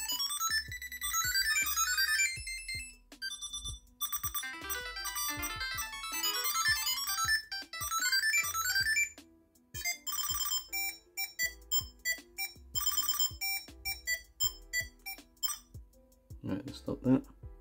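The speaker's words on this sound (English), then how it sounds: "Change the ringtone." A Samsung Galaxy SmartTag 2 tracker plays its ringtone loud and close, a run of repeating bright electronic chime patterns that stop and restart several times, with a brief bit of handling noise near the end.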